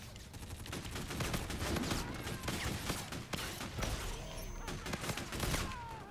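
Rapid bursts of video game gunfire, single shots mixed with automatic fire in a pistol-focused online shooter match, loud and continuous with dense overlapping volleys throughout.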